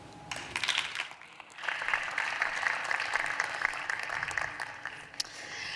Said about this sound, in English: One more round of applause to all our representatives.